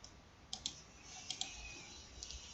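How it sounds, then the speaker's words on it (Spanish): Sharp, faint mouse clicks land in small pairs, three double-clicks spread over a couple of seconds, with a louder click at the very end against a quiet background. "Damos clic izquierdo"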